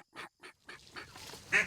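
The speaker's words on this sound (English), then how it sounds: "There's ducks right there." Ducks on a flooded street quack in a few short, separate calls, faint and somewhat distant, with a louder squawk at the end.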